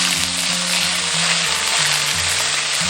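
Pomfret fish bones and head slices fry in hot cooking oil, a loud, steady sizzle filling the whole stretch with a low hum running beneath it.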